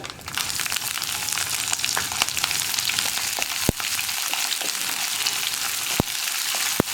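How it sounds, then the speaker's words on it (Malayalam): Sliced onions and green chillies frying with urad dal in hot oil give a loud, steady close sizzle, broken by a few sharp spatula taps against the pan, with no voices. "നമ്മൾ കട്ട് ചെയ്ത് വെച്ചിരിക്കുന്ന ഉള്ളിയും പച്ചമുളകും ചേർക്കാം"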